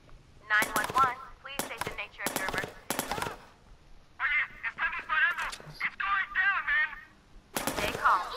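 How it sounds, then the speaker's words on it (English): Video game gunfire in Watch Dogs 2, several short bursts of rapid shots in quick succession, then a string of quick pops, with someone talking between the shots. "What happens if I shoot him again?"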